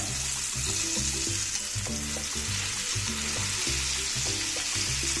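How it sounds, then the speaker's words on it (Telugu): Ponnaganti leaf chutney frying in oil after the tempering, a steady dense sizzle with a regular rhythm of stirring scrapes throughout, no voices. "ఈ పచ్చడిని ఈ నూనెలో వేసుకొని 1 నిమిషం ఆ విధంగా ఇట్లాగే మగ్గనిద్దాం."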